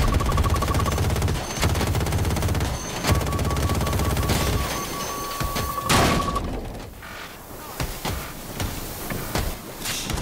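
Loud gunfire and blasts during a video game rocket attack, with dense rapid shots at the start, then a sharp explosion-like burst, giving way to scattered thumps and quieter fire.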